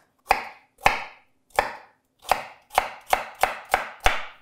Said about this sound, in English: I'm just going to go ahead and cut that right across, just to aim with a similar thickness as the other pieces